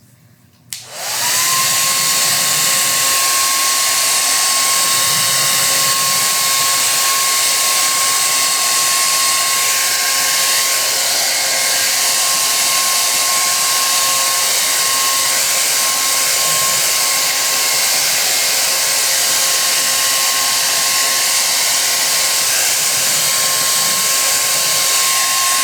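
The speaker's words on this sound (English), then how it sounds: "I'm going to pop up the hairdryer." A handheld hair dryer switches on and runs at a loud, steady whine with a constant airy roar for about 25 seconds, drying base paint on a wooden sign at a craft painting table.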